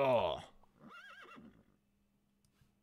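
A short cartoonish horse neigh rings out in the video game Super Auto Pets, a bright descending whinny followed by a quieter wavering whinny, then near silence.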